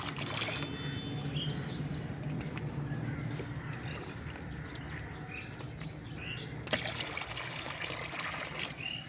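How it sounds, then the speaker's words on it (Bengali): A mug of water poured into a bucket of water for watering garden plants, a soft steady trickling splash outdoors, with faint birds chirping in the background. "এই এক মগ জল এই এক বালতি জলের মধ্যে মিশিয়ে দেব"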